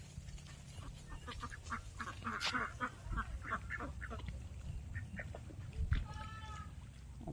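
Several ducks quack on cold green water, a few bursts of nasal calls rising over steady outdoor background noise, with one louder call near the end.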